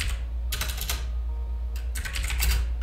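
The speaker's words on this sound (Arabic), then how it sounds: "الآن راح نضيف نص، راح نكتب مثلا" Keys tapped on a computer keyboard while entering text in Microsoft Word, two quick bursts of clicking separated by a pause, fairly close with a low steady hum beneath.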